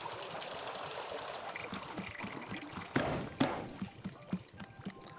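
Water trickling and pouring for brewing coffee in the cozy video game Wanderstop, a soft continuous stream with a few louder splashy pulses toward the end, no talking.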